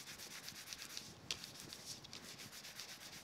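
Soft, continuous rubbing as a cloth or pad wipes across an embossed, stamped craft card, a steady brushing texture with one brief sharper scrape partway through, close and quiet with no talking.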